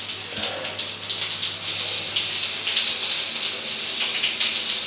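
Water runs steadily from a hotel room shower in Pattaya, a constant close hiss of spray splattering on the floor of a one-piece shower stall.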